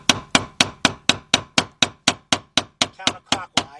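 A hammer taps a plastic fuel pump ring on a Volkswagen Beetle, Golf or Jetta (1998-2005) in a steady series of about thirteen sharp, close knocks, evenly spaced and alone.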